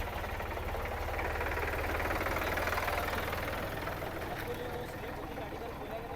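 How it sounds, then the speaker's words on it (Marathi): A tractor sits idling in a rural village, its engine chugging in a steady low knocking rhythm close by, with a continuous rumble and faint vibration that holds level throughout. "तर मंडळी बघू शकता ट्रॅक्टर घेऊन येले आहेत संकेत भाई आपले"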